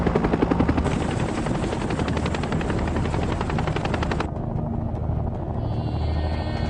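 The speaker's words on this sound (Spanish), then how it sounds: "los helicópteros descendieron hasta la altura de las copas de los árboles." The loud, steady chop of helicopter rotors from helicopters flying low at treetop height during the Vietnam War fills the scene, close and continuous, with a deep engine drone underneath.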